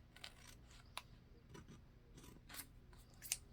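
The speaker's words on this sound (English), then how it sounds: "All right, so we're going to cut that off the bottom." Scissors snip through paper to trim the bottom off a paper craft piece, giving a few faint, scattered cuts and crisp rustles with short gaps between them.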